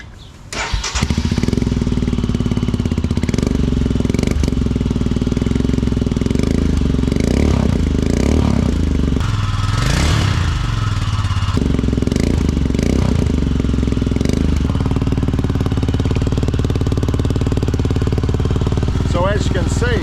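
A Royal Enfield Himalayan motorcycle fitted with a Delkevic carbon fibre exhaust starts up and runs loud and close for about twenty seconds, idling with a steady throb and rising into several revs in the middle, with no voice over it.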